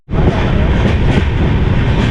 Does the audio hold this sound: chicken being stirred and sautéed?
no